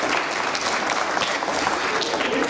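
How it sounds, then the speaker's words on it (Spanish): An audience at a school reading event applauds to welcome a fifth-grade student reader, dense continuous clapping that is loud and close, holding steady for the whole stretch. "quien recibimos con un aplauso"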